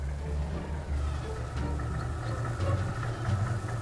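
A tractor engine idling in Farming Simulator 19, a low steady chugging hum with a faint rhythmic knock, moderately quiet and continuous, with little else over it.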